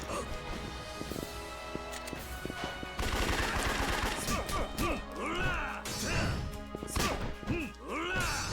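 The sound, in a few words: gunfire in the video game Yakuza 3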